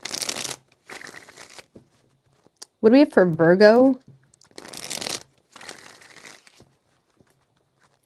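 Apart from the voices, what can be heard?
shuffling tarot cards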